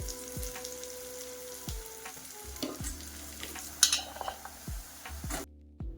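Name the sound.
onion, tomato, garlic and spices frying, stirred in pan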